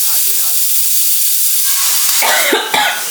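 A loud hiss fills the clip while a voice sounds briefly, followed by a few short, sharp coughs near the end.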